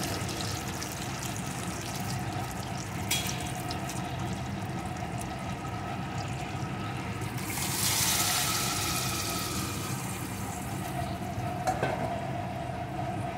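Egg papaya curry gravy hits a hot pan with a continuous frying hiss, surging into a louder splashing burst partway through before settling back.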